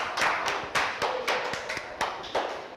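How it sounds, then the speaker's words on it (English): A small audience claps for a contestant on a maths quiz show, a sparse scattering of separate hand claps at irregular intervals, fairly close and modest in volume. "But let's clap for her."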